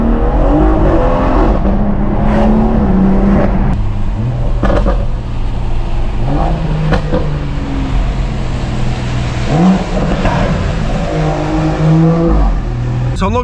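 A stage 2 tuned BMW M140i drives on damp roads, its engine droning loud and continuous, with rising and falling tone as it shifts through gears, interior cabin perspective.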